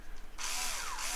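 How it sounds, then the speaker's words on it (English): Power drill boring in a handheld workshop setting, its motor whine starting abruptly after a brief quiet moment and running steadily and loud, close by with no talk. "it's easier to drill when you are doing this than in can you see?"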